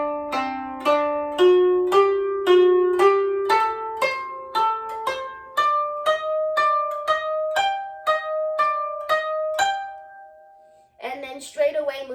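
Plucked koto notes from the first koto part of the piece Hana Ikada, a steady stepwise passage, each string attack ringing briefly before a pause and a short final flourish.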